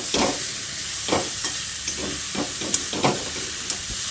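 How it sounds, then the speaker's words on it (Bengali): A spoon stirs sugar into cabbage curry in a hot pan, rhythmic scraping strokes about once a second over a soft sizzle, close and without speech. "চিনিটা দিয়ে খুব ভালো করে মিশিয়ে নিতে হবে।"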